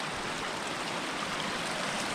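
A small creek flows steadily down from a lake beside a forest hiking trail, its continuous broadband rush of running water close and even throughout with no voices.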